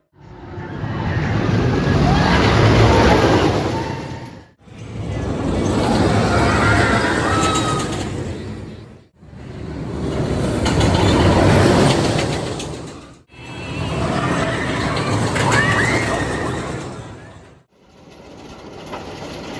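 Twisted Timbers roller coaster at Kings Dominion, ridden in the back row, roars in loud rushing bursts of wind and rattling track, several long surges separated by brief dips.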